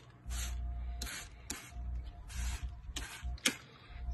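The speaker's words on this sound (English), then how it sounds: "I'll spray it with one more coat" Paint stripper sprayed onto a plastic model car body in five or six sharp hissing bursts about half a second apart, close up, over a low steady background hum with no talking.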